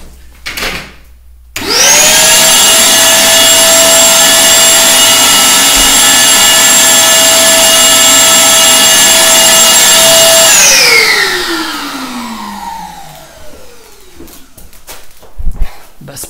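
Giraffe drywall sander working drywall in a stairwell: the motor spins up with a sharp whine, holds a steady loud buzzing hum for about nine seconds with an attached vacuum rushing, then winds down slowly.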